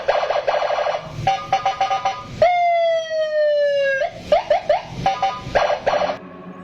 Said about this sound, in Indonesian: lo lengkapin motor lo atau kendaraan lo dengan sirine-sirine yang suaranya keras